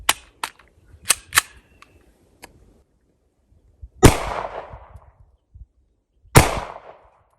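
Hi-Point C-9 pistol fired outdoors on a shooting range: a cluster of sharp, snappy cracks in the first second and a half, then two loud, full gunshots several seconds apart, each trailing off in a short ringing decay.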